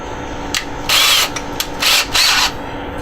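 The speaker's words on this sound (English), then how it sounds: "So just gonna get our drill bit that matches the size of that flange, so we can put it right through." A power drill bores through the thin wood of a cigar box guitar, three loud whining bursts of drilling separated by short pauses, close and alone with no talk.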